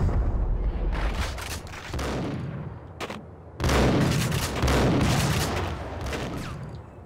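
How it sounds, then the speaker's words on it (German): A loud, dense burst of explosive booms and crackling blasts in Max Payne, continuous for several seconds with a couple of brief lulls, rumbling at full volume. "Oh, da ist irgendwas explodiert."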